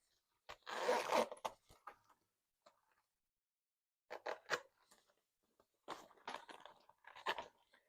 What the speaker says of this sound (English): Makes it easier a little bit if you open the zipper.